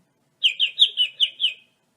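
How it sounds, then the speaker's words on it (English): A bird gives six quick, bright chirps in an even run, clear and close against total silence. "for a chirp sound clip. Let me play it for you."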